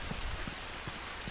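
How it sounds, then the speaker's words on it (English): Steady rain pours down in The Last of Us game, a dense even hiss of drops with soft scattered patters, fairly quiet and with no voices. "I wish this rain would stop."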